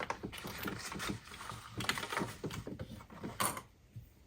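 A sewing machine stitches around a crossbody bag, giving a close, quiet mechanical whir and clatter in short uneven bursts.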